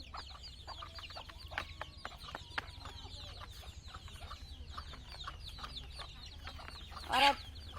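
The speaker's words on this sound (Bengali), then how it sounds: "সাফিন শুধু ডিস্টার্ব করে হাঁস মুরগিকে।" Chickens and ducks cluck in a village farmyard, a steady scatter of short clucks near and far with one louder squawk near the end, all over low background noise.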